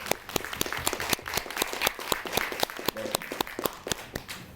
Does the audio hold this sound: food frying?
no